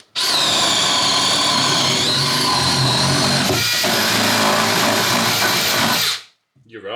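A power drill whines at full speed for about six seconds in one steady, loud, close burst, its pitch dipping slightly midway as it bites, then stopping abruptly.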